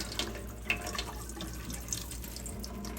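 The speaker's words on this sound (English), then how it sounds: "you can strain the water that way" Water drains out of a pressure cooker holding soaked beans as it is held tilted against a strainer lid, a steady faint trickle with a few small splashes and drips and no talking.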